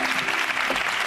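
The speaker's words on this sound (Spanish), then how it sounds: "Un fuerte aplauso para David Trueba." Steady, dense applause from a crowd, continuous clapping filling the whole moment.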